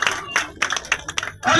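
A crowd at a community gathering claps in short, uneven bursts, fairly close and moderately loud, with a voice briefly audible between them.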